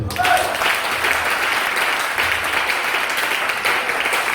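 A church congregation at an evening revival service in Buyo claps together, a dense, steady wash of applause filling the whole stretch at close range.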